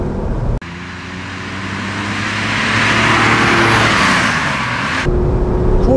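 A 1966 Porsche 911 SWB in original condition pulls away hard, its air-cooled flat-six rising in a loud, steady accelerating roar for several seconds before cutting off abruptly.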